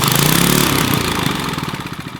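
A vintage Briggs engine on a rat rod mini bike idles loudly and close, a steady rough chugging that loosens into uneven pulsing toward the end, with no voices.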